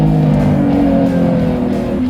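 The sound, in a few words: Lamborghini Revuelto V12 engine accelerating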